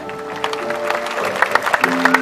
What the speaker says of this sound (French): Je suis sûre que vos applaudissements leur iront droit au cœur.